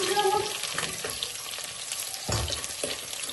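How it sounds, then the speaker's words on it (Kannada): Onion frying in a pan for tomato bath, a steady close sizzle with a few stirring scrapes and clinks, no talking. "ಸೊ ಅದೆಲ್ಲ ಸ್ವಲ್ಪ ಫ್ರೈ ಆದಮೇಲೆ ಗಾರ್ಲಿಕ್ ಮತ್ತು ಚಿಲ್ಲಿ ಹಾಕ್ತೀನಿ"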